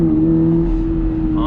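A 2022 Subaru BRZ under throttle, a steady engine drone held at a constant pitch for a moment, loud and close as if from inside the cabin.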